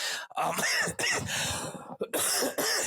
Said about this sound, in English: Holy cow, that poor cough.